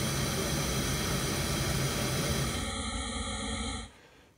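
Steady, loud hiss of white noise from a Buchla 296e synthesizer fills the clip, then cuts to a thinner filtered tone near the end before fading out.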